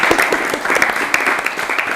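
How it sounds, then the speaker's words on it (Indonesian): A school audience at a junior high event claps together, a loud, close, steady burst of applause from many hands with no voices over it. "Tepuk tangan dong buat semuanya."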